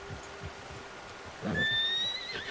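A horse in the video game Red Dead Redemption 2 lets out a loud, rising whinny after a stretch of quiet background, with faint hoof clops beforehand and no voices over it.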